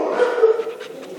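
A dog gives a short, close whining bark and yelp during a balanced obedience training session, loud and alone with no talk.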